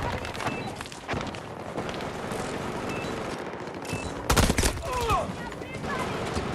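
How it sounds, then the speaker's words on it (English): Automatic gunfire and bursts of shots in a Battlefield 2042 multiplayer match, dense and continuous against a busy battlefield din, with a louder close volley midway. "Firing at the men!"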